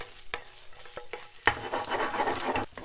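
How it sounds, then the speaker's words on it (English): Squares of bacon with the rind removed hit a hot pan for a Caesar salad, giving a steady close sizzle with a few sharp stirring clicks and taps. "Okay, so we'll just get that bacon in."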